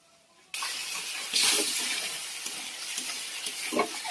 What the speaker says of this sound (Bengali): তেল গরম হয়ে গেছে। এখন পেঁয়াজ, আদা, রসুন, গোটা জিরে, শুকনো লঙ্কা পেস্ট করে তেলে দিয়ে দিয়েছি।